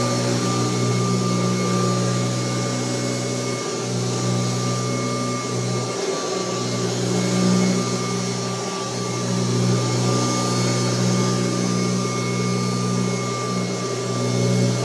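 A Kirby Heritage 2 upright vacuum cleaner fitted with a new bag runs steadily and loudly with a constant motor whine and hum throughout, no voices.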